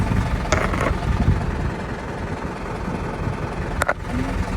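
Tractor PTO-driven pump running on a yellow-painted galvanized zinc barrel, a steady loud mechanical drone throughout with a couple of brief sharper knocks near the end.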